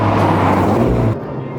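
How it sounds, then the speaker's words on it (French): An Alpine A110S sports car's turbocharged engine roars loudly and close for about a second, then the sound drops off sharply to a quieter hum. "On entend bien le turbo en plus."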